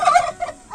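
A large chicken calls in a few loud, gobbling bursts, the strongest at the start, then a short cry near the middle and another at the end, with no talk.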